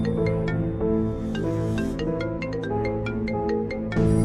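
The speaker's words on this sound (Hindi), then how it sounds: "बॉब कहता है अरे ये मोबाइल किसका बज रहा है?" A mobile phone ringtone plays a repeating melodic pattern of bright, evenly spaced tones over steady music, loud and close throughout with no talking.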